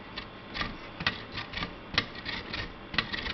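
Close, dry rasping strokes as lemon peel is rubbed against a grater, several short scrapes in an uneven rhythm over a quiet background, without any voices.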